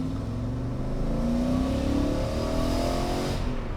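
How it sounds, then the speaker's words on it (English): A BMW E38 7-Series V8 accelerates hard, its engine note climbing steadily in pitch as it pulls, loud and continuous from start to finish with no talking. "Right, you want to hear some acceleration?"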